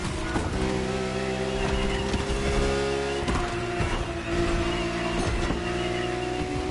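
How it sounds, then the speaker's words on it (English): A Lamborghini Murcielago in The Crew Motorfest racing game. A loud, steady engine drone holds with strong tonal layers and small surges in pitch, with no voices. "That was a Murcielago right there."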